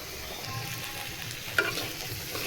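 Meat sizzling steadily in a pan on a stovetop burner while pulao sits on the next burner, a constant close frying hiss with one brief clink partway through.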